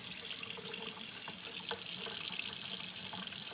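Water runs steadily from a kitchen tap in a soft, continuous hiss, with no voices.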